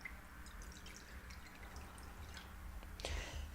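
Tap water pours into a cup in a kitchen, a light trickle with scattered drips and splashes, quiet and close, ending in a brief louder splash.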